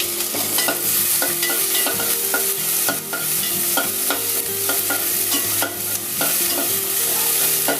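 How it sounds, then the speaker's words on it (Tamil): Onion, garlic and ginger sautéing in a pan for fish curry make a loud, close sizzle broken by regular scraping stir strokes of a utensil, repeating at a quick, even pace with no talk. "கொஞ்சம் அரைக்கிறதுக்கு வெங்காயமும் கொஞ்சம் வெள்ளைப்பூடு, இஞ்சி லேசாக வதக்கிடுவோம்"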